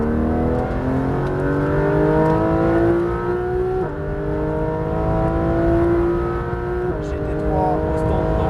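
A Porsche 991 GT3 RS accelerates hard on the Le Mans track, its engine climbing in pitch through the gears with two clear upshifts, loud and close from onboard, with a voice speaking over it.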